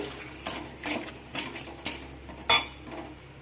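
Spices are fried in a little oil for Beresta chicken, with a spatula tossing them in rhythmic strokes. There are regular scraping swishes about every half second and one sharp metallic clink near the end, over a faint sizzle.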